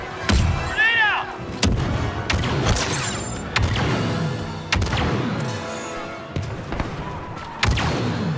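Grenade blasts and weapon fire in the Star Wars Battlefront II (2017) video game on the Takodana battlefield, several sharp booming impacts and thuds spread through a busy combat mix, with a brief voice callout.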